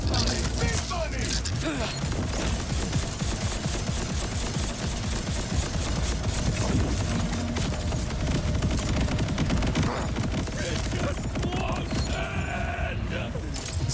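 Rapid, continuous gunfire from a gun in the video game Borderlands rattles on steadily at high volume, mixed with clanking mechanical game effects and a voice speaking over it.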